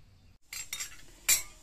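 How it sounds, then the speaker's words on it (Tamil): A metal cooking pot being picked up in a home kitchen while preparing a village-style brinjal and tomato curry, with a few short close clinks and clatters of metal vessels. "நான் வந்து இந்த மாதிரி பாத்திரம் ஒன்று எடுத்துக்கிட்டுங்க"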